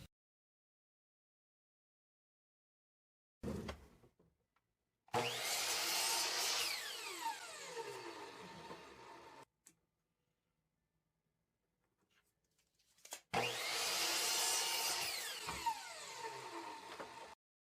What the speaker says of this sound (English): I wanted to cut them in half, but also cut the rounded edges of the board off too